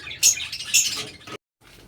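Pet lovebirds kept at home chirp in short, bright bursts, two louder calls standing out, close by, before a brief silence and a faint resumption.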